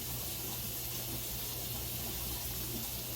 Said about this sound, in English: Now I add a little water.